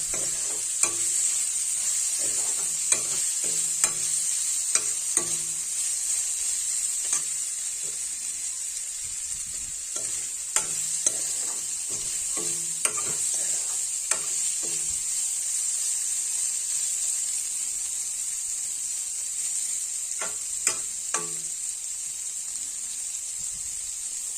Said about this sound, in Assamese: তিতা কেৰেলাখিনি তেতিয়ালৈ ভাজি থাকিম যেতিয়ালৈ শুকাই চিনাই নাযায়।